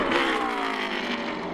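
An ARCA Racing Series race car crossing the finish line at Michigan International Speedway, its engine roaring loud and close with a sustained high whine that shifts slightly in pitch as it passes.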